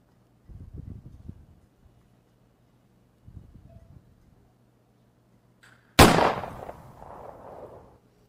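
A single loud rifle gunshot striking a hippopotamus during a hunt, a sharp close crack followed by a short rumbling echo, after quieter muffled thumps.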